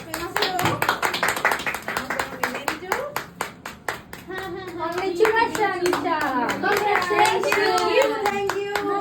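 A group of children clapping for a classmate who placed first in a vote, with steady, fairly close hand claps and children's voices chattering and talking over the applause throughout.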